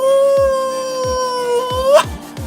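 A man imitates a long wolf howl with his voice, a loud, steady wavering tone that rises and breaks into a short yelp at the end. Sharp clicks tick at regular intervals underneath.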